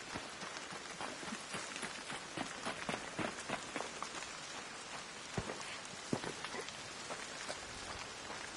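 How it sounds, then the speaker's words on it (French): Steady rain patters across the whole span in the video game ARC Raiders, a dense broadband hiss with scattered sharper droplet taps standing out, heard alone with no talk. "Il pleut."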